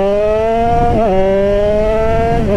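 A Yamaha DT motorcycle's new engine runs loudly and steadily at close range on its first ride, its pitch dipping briefly twice as the throttle shifts.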